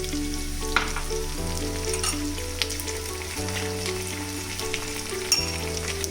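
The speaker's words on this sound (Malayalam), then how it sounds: "നമുക്ക് 2 സ്പൂണ് ടൊമാറ്റോ സോസ് ഒഴിച്ചു കൊടുക്കാം." Tomato sauce going into a pan of chicken pasta with a steady, close frying sizzle throughout and a few light clinks and stirring scrapes, with no speech.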